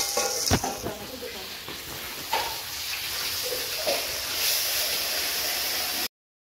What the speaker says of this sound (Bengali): গাইস দেখো আমাদের মাছ ভাজা হচ্ছে গাইস।